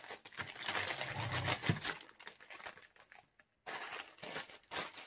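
Packaging crinkles and rustles as a diamond painting pouch is pulled free, a close, busy stream of crackling plastic with a brief silent gap before the handling resumes.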